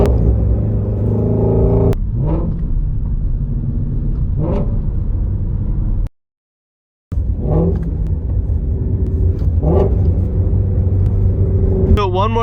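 A car engine revving through rev-match downshifts: a loud, steady engine rumble with several short throttle blips that rise in pitch, broken by a brief gap of silence and with a voice talking over it at times.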